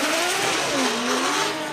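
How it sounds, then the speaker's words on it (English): A Formula Drift Japan drift car powered by a NASCAR V8 screams at high revs, its loud rasping engine note rising and falling continuously through the short burst with no pauses. "Daigo Saito, driving the outside zone with a mean NASCAR V8"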